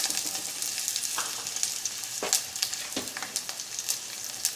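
Garlic, cumin and mustard seeds frying in hot oil for tomato dal, a dense crackling sizzle with sharp popping bursts and spatula scrapes, close and continuous.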